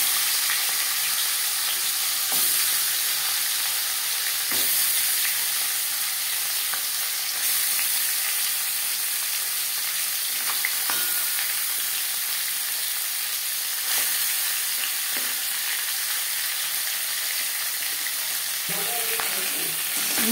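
Marinated bhetki fish bones fry in hot refined oil, giving a steady, loud sizzle with no pauses, broken now and then by soft clicks and light pan movement.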